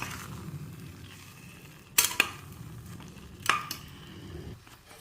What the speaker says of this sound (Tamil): இப்போ இதை கலந்து விடும் சிம்மிலே வச்சுருக்கோம்